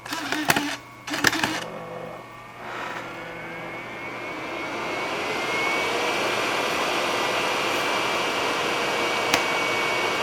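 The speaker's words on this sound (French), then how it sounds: "ces ordinateurs sont connus pour faire pas mal de bruit quand ils sont dans la sélection" An Apple iMac G5 computer starts up with a few brief clicks and knocks, then a loud, steady fan whir that rises in pitch and settles into a constant close-up drone.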